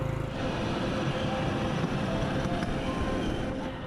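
A Bruhita, a small rail vehicle on an old former cargo railroad in rural Colombia, rumbles steadily along the tracks with a constant low roar and faint rattling, close and unbroken throughout.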